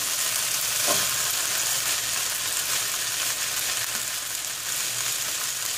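Potatoes frying in a pan, seasoned with freshly ground black pepper and stirred, give a steady close sizzle. One brief scrape of stirring stands out early, and no one speaks.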